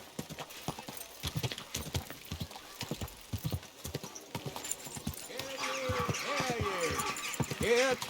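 Horse hooves clip-clop in a steady, close rhythm in the video game Kingdom Come Deliverance 2, with a voice speaking over the final seconds.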